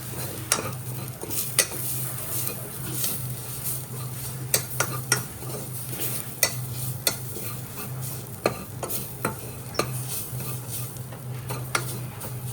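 Mushroom biryani masala with pepper powder stirred in a pan: a spoon scrapes and clinks repeatedly in an irregular rhythm over a low steady frying hiss, close and clear, with a constant hum beneath.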